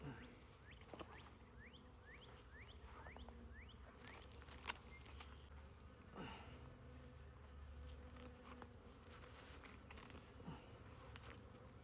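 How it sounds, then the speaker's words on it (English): Bees buzz around close by in a steady, busy drone, with occasional faint knocks and rustles; no voices are heard. "The bees over here are a lot more aggressive for some reason."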